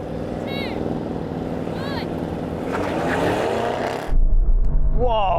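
An Audi RS6 GT with Quattro all-wheel drive launches off the line at a drag strip, its engine roaring steadily then surging loud and close, with voices talking over it.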